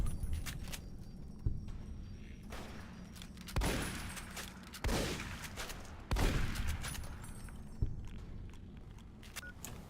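A hunting shotgun booms four times at giant ants in Fallout New Vegas, each blast a sharp, loud crack with a decaying tail, spaced a second or two apart over a low game ambience.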